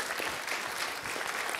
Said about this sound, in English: Give me a round of applause for sitting in the right seat.